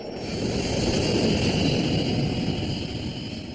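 A loud, steady jet roar fills the whole stretch, broad and unbroken: an F-4 fighter jet taking off at full thrust.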